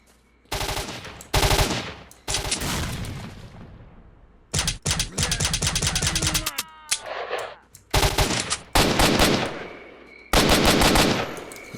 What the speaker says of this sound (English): I'm shooting at the guy who was throwing frags at earlier.